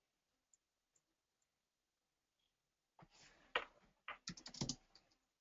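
Someone types on a computer keyboard during an online meeting, a few faint isolated clicks followed by a close burst of quick, uneven keystrokes.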